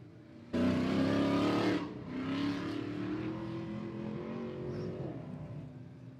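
An off-road race car launches off the line at a Jeep Proving Grounds short course, its engine bursting into a loud roar that holds for about a second, then settles into a steady, fading drone as it pulls away.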